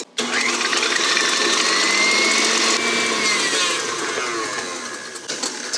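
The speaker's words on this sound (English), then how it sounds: "now we're gonna whisk this together for 3 minutes on high" An electric mixer whisks egg whites and sugar on high, a loud steady motor whine with a slowly shifting pitch that starts abruptly and holds for several seconds, fading slightly toward the end, with no talking.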